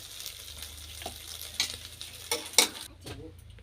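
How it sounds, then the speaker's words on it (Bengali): Soybean chunks fry in oil in a kadai, giving a steady close sizzle broken by a few sharp scraping stirs and clinks toward the end, with no talking. "আমি সোয়াবিনগুলোকে এইভাবে ভাজা করে নিয়েছি"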